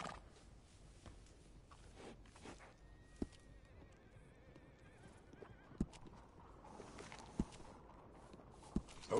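A horse in the Red Dead Redemption 2 video game whinnies and walks, with soft clip-clop hooves, a few sharp knocks and ambient game background throughout.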